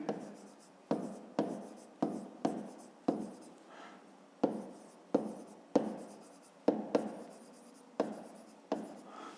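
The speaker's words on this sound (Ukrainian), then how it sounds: "Запишемо так" Pen strokes scratch across paper while working a fifth-grade math exercise, a steady sequence of about a dozen short, close writing bursts with brief pauses between them, and no one talking.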